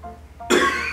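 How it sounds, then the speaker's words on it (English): A single sharp, close cough bursts out partway through, following a quiet stretch with a faint tonal murmur, and fades out in a short breathy tail. "I was trying to cough for so long"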